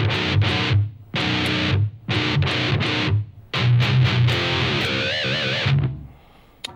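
Distorted electric guitar riff, played in choppy repeated bursts with a low open-string chug and a longer ringing tail near the end, loud and alone.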